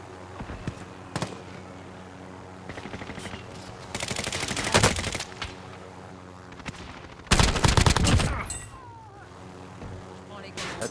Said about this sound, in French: tire de tous les côtés